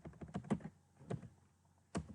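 Typing on a computer keyboard, a few quiet, close clicks and thunks in a short irregular burst followed by a pause and single keystrokes, no talking.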